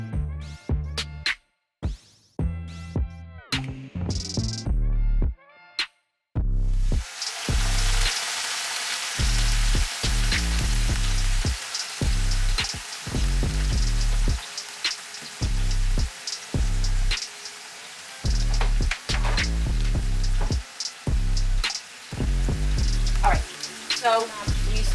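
Chicken pieces fry in a pot, being cooked for an avocado chicken salad. A voice speaks first, then a steady crackling sizzle takes over and continues while the person keeps talking on and off.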